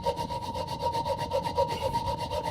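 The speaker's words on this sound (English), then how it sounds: "So you have to cut it with a little mini hacksaw blade." Mini hacksaw blade cutting through a soft brass toilet closet bolt, a close, even back-and-forth rasping in quick regular strokes, about a dozen passes with no talking.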